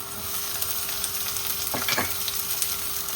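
Beans, capsicum and carrot frying in a pan, an even close sizzle with a couple of brief stirring scrapes in the middle, no speech.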